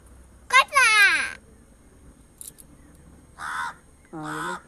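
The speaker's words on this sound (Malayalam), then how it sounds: "അടുത്ത കാക്ക വന്നു കണ്ടോ." A crow caws in short harsh calls near the home of a child about to leave for school, heard in a few separate bursts with quiet gaps between them and no talk over them.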